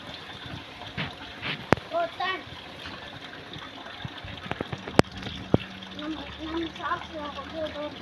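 Water is poured and splashed onto a floor to clean it, with gushing and trickling sounds mixed with scattered knocks and clatter, and people talking throughout.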